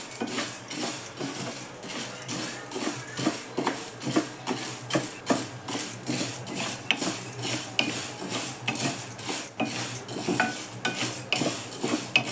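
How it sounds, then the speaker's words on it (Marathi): Sabudana flour is dry-roasted over a low flame, with a utensil scraping and tapping against the pan in a quick, repeated stirring rhythm that is close and moderately loud. "साबुदाणा आटे घालते जरा बारीक गॅसवर भाजून घेते चांगलं"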